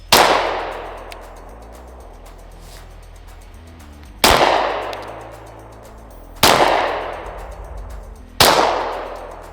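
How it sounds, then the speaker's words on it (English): Handgun shots at an outdoor range while zeroing a Dusk 19R sight: four loud, sharp single reports spaced about two seconds apart, each followed by a short ringing decay, with no voices. "I'm shooting a few more shots to make sure I understand what it's doing before I adjust it further"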